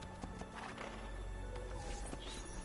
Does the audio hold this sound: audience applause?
no